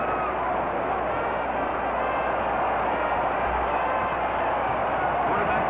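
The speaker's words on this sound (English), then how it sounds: "The crowd is going crazy." A stadium crowd at the 1958 Grey Cup football game roars in a dense, unbroken wash of cheering that holds steady and loud for the full span.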